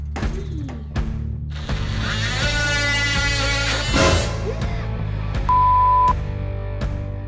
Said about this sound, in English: Carefully cut out the hole with your tool of choice, whether that be an oscillating tool like we used